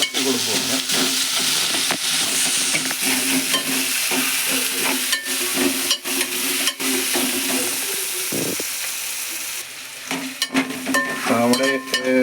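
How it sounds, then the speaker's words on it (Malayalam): Browning ingredients for a homestyle chicken curry sizzle in a pan while being stirred, a steady loud frying hiss punctuated by repeated sharp scrapes and clanks of the spoon. "ഒന്ന് നല്ലോണം ഒന്ന് ഇളക്കി കൊടുക്കും"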